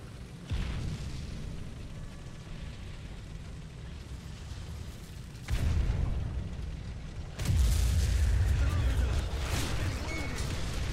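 Tank cannon fire in War Thunder ground battles with Japanese tanks, heard as two heavy booming blasts about two seconds apart over a constant low engine rumble, the second blast louder and followed by sustained roar.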